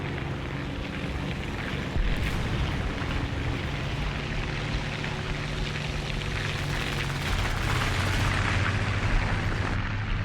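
A 76 mm high-explosive shell strikes a tank in the War Thunder game, heard as a dense, rumbling blast with heavy low-end roar layered over constant engine drone, no voices present.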